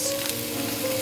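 Asparagus sizzles on a grill pan, a steady close frying hiss with crackle and no voices.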